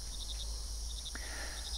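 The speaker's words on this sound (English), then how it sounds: "They hear crickets chirping." Crickets chirp at night outdoors by a campsite, giving faint, steady high-pitched pulsing trills in short repeated bursts over a low background hum.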